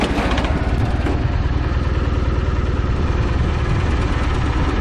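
A Cub Cadet 782 garden tractor engine idles loud and close, a steady rough chugging with a faint metallic clatter, and no one speaks over it.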